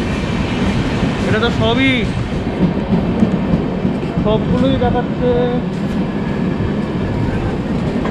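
A train running on railway tracks, heard as a loud, continuous low rumble throughout, with people talking over it.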